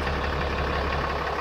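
Steady idle of a 6.7-liter Cummins diesel in a 2016 Ram 3500 truck, a constant close rumble with no voices.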